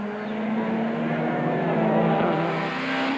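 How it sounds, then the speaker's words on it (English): Touring race cars, including a Nissan Sentra and Primera, roar past on the Kyalami track in 1998, a steady loud engine drone with rising and falling pitch as they pass close by. "Moss outbraked dos Santos to go past the Duckham's Nissan Sentra"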